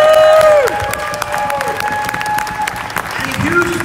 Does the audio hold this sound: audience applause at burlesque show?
yes